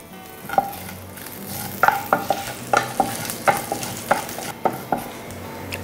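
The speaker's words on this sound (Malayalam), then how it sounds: "നമ്മളൊരു പാനിലോട്ട് വെളിച്ചെണ്ണ ഒഴിച്ചു കൊടുക്കുന്നു. കടുക് ഇട്ട് കൊടുക്കാം." Mustard seeds and green chilies fry in hot coconut oil in a pan, with steady close-up sizzling and about a dozen sharp pops and spoon scrapes spread irregularly through the stretch, no voices present.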